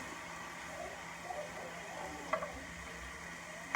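Carnitas fajitas with bell peppers and onion sizzle softly in a pan, a steady low frying hiss with a couple of brief clinks or stirs, no talking.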